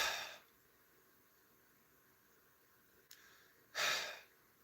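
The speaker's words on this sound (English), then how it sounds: "I just make that ha sound, like I'm snoring." Ujjayi yoga breathing, two audible breaths: a short airy exhale at the start, then after a pause a longer, louder breathy exhale with a soft "ha" quality, close and quiet.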